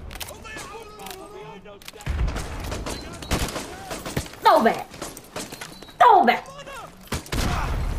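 Gunfire in Call of Duty Modern Warfare Remastered: several sharp bursts and single shots scattered through the stretch, some loud and close, mixed with game voices and a player talking over it.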